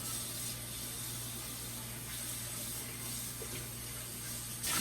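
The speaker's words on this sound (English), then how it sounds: "get some water in this pan, in this pot" Tap water runs into a cooking pot for spaghetti, a steady, fairly quiet splashing stream in a home kitchen over a low hum, with a brief louder gush right at the end.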